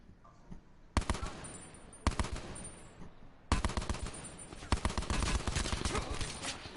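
Rapid automatic weapon fire in a PS4 shooter game, loud repeated volleys in several separate bursts, the last one long and sustained, with little talk over it.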